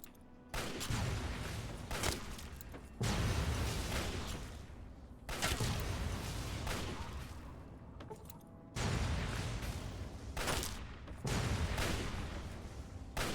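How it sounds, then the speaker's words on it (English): Plasma grenades and gunfire in the Fallout 3 video game, heard as a series of loud, broadband blasts every couple of seconds, each followed by a rumbling decay, with no talking. "Let's get some plasma grenades in this mother trucker."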